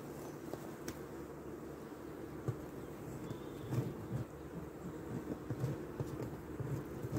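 Honeybees buzz around an open beehive, a low, faint, steady hum with scattered closer passes and soft knocks, no talk.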